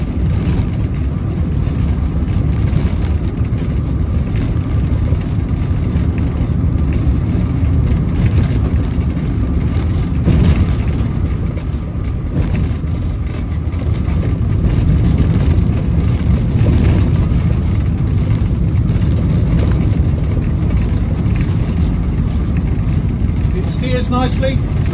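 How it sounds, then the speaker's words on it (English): A 1965 VW Type 2 Splitscreen van rumbles along a very bumpy road, with a steady loud engine drone, rattling and wind noise throughout and someone talking over it. "Very, very bumpy road this, and it copes with it, should we say"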